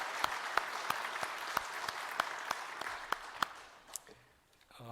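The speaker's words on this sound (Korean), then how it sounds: "박수함으로 부활의 주님께 영광 돌리겠습니다" A church congregation at a Sunday service claps together in praise of the risen Lord, a moderate, even wash of clapping with a few distinct nearer claps, fading out toward the end.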